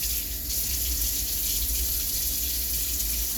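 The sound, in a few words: tap water running while washing hands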